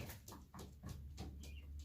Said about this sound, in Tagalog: Ayan po mga kalapatids. Ayan po sila.